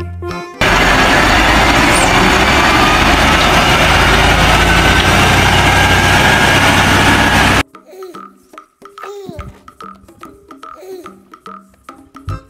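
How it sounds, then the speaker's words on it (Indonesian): A tow truck engine idles as a loud, steady, rough rumble for about seven seconds, then stops abruptly and rhythmic music follows. "Mobil truk derek."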